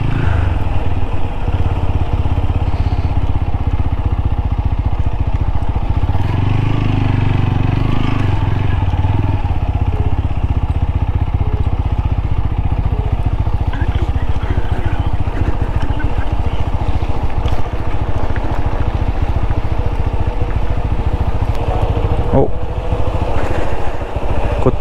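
A TVS Apache RTR 200 4V motorcycle ridden off-road on rough mountain tracks near Dharamshala, its engine droning loud and steady throughout, with rattling and clatter from the bumpy terrain.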